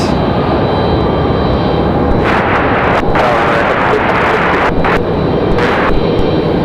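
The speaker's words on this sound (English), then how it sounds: "Republic Airways. So this 737-700 flying 44 minutes" A Republic Airways Boeing 737-700 jet at Raleigh-Durham International Airport gives a loud, steady, broadband engine roar that fills the whole stretch without easing.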